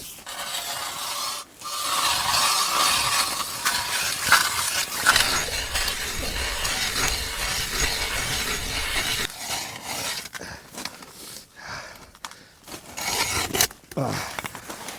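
A hand ice auger bores its first hole through ice inside a tent, giving a grinding, rasping scrape that runs continuously and then breaks into shorter uneven bursts near the end.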